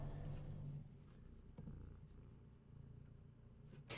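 A pet cat named Luigi purrs close to the microphone, a quiet low rumbling cycle that rises and falls in soft, steady breaths with no one talking.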